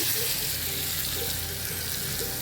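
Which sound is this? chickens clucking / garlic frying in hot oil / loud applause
garlic frying in hot oil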